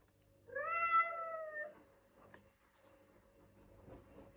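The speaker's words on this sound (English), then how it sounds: "touching the sensors on Percy's head, neck, back and tail, there will be different cat meows and purring sounds in response" Robotic toy cat meowing, a single drawn-out electronic meow up close, followed by faint ticking and quiet mechanical noise.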